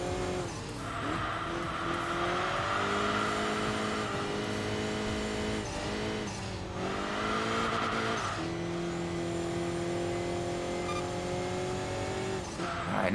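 Engines of race cars in Enthusia Professional Racing, including a Nissan Skyline GT-R R34, drone continuously with rising and falling pitch through gear changes and occasional tire squeal, loud and steady with no talk.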